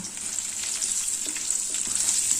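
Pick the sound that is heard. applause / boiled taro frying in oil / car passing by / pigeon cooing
boiled taro frying in oil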